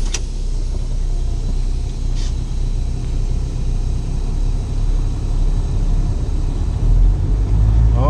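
A truck's wheels spinning in snow outside a shipper's building, a steady loud engine rumble with a constant drone of strained revving throughout, close and continuous, with no talking.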